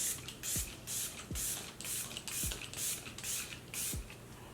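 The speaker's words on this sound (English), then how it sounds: "So I'm gonna go ahead and spray my face again." A dewy facial setting spray fires in five short, evenly spaced hissing bursts, close and soft, each with a small pump click.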